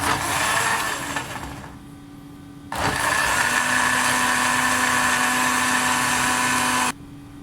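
A mixer grinder blending aloe vera whirs loudly in two bursts, the motor cutting out briefly between them and stopping again near the end.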